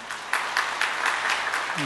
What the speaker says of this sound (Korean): 박수로 환영하며 축복하겠습니다